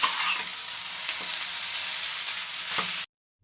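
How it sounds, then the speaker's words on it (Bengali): Maggi pasta with masala, pepper and sugar being stirred and fried in a pan, a loud continuous sizzle broken by repeated spatula scrapes that stops abruptly near the end, with no talking. "এবার ভালো করে এটা মিশিয়ে নেব।"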